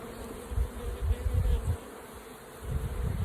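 Honey bees buzz around an open beehive during an inspection, with a sugar feeder set out for them; a dense, low swarm drone swells and fades in close, steady waves with no voices.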